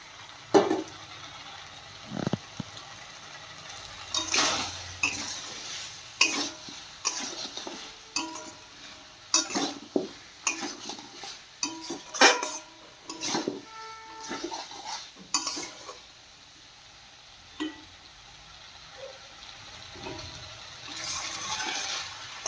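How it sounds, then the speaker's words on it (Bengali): Broccoli and potatoes being stir-fried in a pan, with a quiet sizzle under frequent clinks, knocks and scrapes of a spoon against the pan, irregular and close. "ব্রকলিটা দিয়ে ভালো করে কষিয়ে নেবো"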